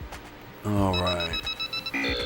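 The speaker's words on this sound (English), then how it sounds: "Let me see what all those notifications are real quick." Bright electronic notification chimes from a Switch gaming setup ring out in quick succession, a rising tone followed by a string of short repeated beeps, close and clear.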